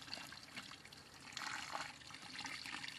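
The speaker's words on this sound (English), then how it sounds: "Just kind of give them a good pouring." Water pours steadily onto corn plants growing in garden soil, a soft continuous trickle and splash that swells slightly partway through, heard alone at close range.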